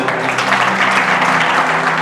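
A church congregation claps hands in praise to God, a dense, steady wash of applause throughout, with some voices mixed in.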